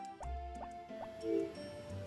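Watering crops on a farm in the Harvest Moon video game gives a series of soft, evenly spaced dripping plinks, quiet and synthetic, followed by a brief splashy gurgle of water over gentle game music.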